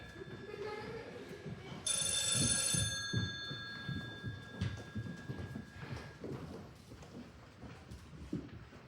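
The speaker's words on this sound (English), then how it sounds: "I don't want this number to be ruined by a ringing telephone" A telephone bell rings in a loud burst lasting about a second, over ongoing low murmuring and clattering background noise.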